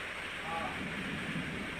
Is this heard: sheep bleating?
no